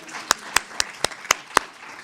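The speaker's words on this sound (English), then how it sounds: "last round of applause for her" At an economic resilience conference session, a small audience gives a brief round of applause, heard as a handful of sharp, evenly spaced claps over a quiet room background.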